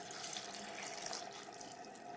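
Water runs steadily into a wet grinder holding ground spices for mutton sambar masala, a soft continuous tap-like splashing and trickle at moderate level for the full moment, with no voices.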